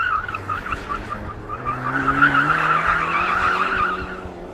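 A new BMW M5 spins its tyres to warm them before a drag race, giving a steady, loud tyre squeal over a revving engine, close and continuous throughout.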